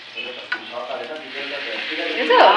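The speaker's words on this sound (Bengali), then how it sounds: "আবার লুচি ভাজছে গরম গরম" Luchi deep-fries in hot oil with a close, bubbling sizzle that builds toward the end, along with light stirring sounds and a faint voice in the background.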